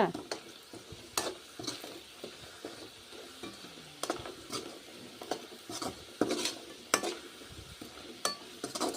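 Tapioca (cassava) 65 pieces frying in hot oil, a soft continuous sizzle broken by regular metallic scrapes and stirs of a utensil against the pan, close and without talk.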